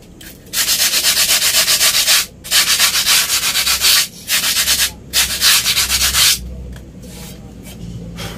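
Sandpaper rubs against a wooden ruler in a close, loud series of rapid scratching strokes in four bursts separated by short pauses, then quieter rubbing at the end.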